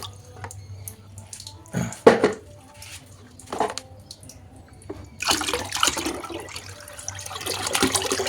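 Water pours into a bucket for watering plants, first in short intermittent gushes and splashes, then as a steady, louder rushing flow through the final few seconds.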